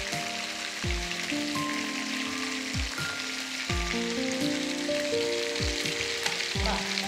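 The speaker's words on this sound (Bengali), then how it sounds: "মাছ ভাজাও আমাদের রেডি হয়ে গেল" Pomfret fish frying in hot oil, a dense continuous sizzle and crackle with repeated low thumps and clanks of a utensil or pan throughout.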